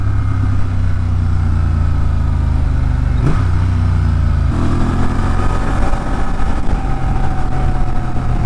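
A 2023 Honda Transalp 750 motorcycle engine drones loudly and steadily up close, its pitch shifting as it slows under engine braking.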